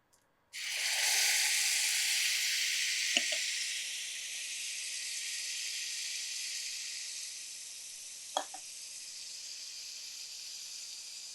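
Ground masala paste hits a hot pan for a beans and potato masala, setting off a loud, steady sizzle that starts abruptly and gradually eases, with a couple of brief clinks partway through.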